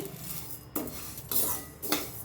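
Dry lentils roasting in a pan for sunnundalu are stirred with a spoon, giving three soft scraping, rustling sweeps in a steady rhythm, close and fairly quiet, no talk.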